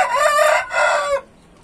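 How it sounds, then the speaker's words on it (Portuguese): A large hen clucks and crows loudly at close range in two drawn-out bursts, then falls silent. "E essa galinha aqui,"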